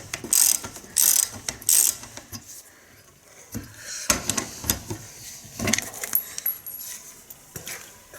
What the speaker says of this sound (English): Little ratchet, which makes it much easier.